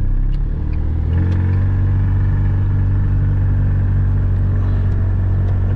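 A Chatenet CH46-R microcar's small engine while driving, a steady low droning rumble heard from inside the cabin, loud and continuous with no talk.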